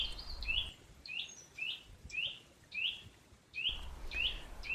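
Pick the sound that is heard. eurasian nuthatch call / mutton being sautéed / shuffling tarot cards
eurasian nuthatch call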